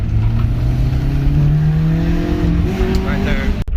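An engine with two broken valve guides revs hard in second gear, its tone climbing steadily and stumbling briefly near the top before cutting off abruptly, loud and close.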